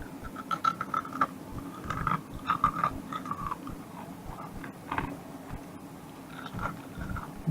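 Close, crisp crunching as someone bites and chews small deep-fried crispy pork bites, several irregular crackly bites followed by quieter chewing.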